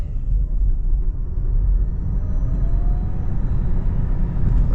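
A 2025 Nissan Ariya electric car accelerating at full throttle on 88% battery, heard from inside as a steady, loud low rumble of road and wind noise with a faint rising whine.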